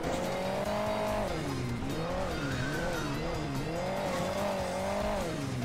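A small vehicle drives across hilly terrain in the Hill Climb Racing 2 mobile game, its synthetic engine droning steadily and rising and falling in pitch as it climbs and descends, loud and continuous throughout.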